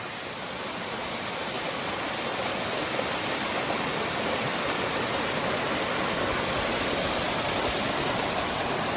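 Clear stream water rushing steadily near a swimming hole on a trail near Rutland, Vermont, a loud unbroken broadband wash holding even throughout.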